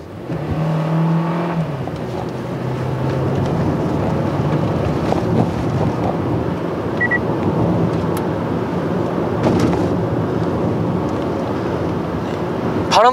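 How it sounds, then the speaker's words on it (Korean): Steady broadband wind rush seeps into the cabin of a Hyundai Sonata 2.0 driving above 60 km/h, a continuous roar with road rumble underneath and no talking. "이 바람 소리가 서서히 들어오기 시작합니다."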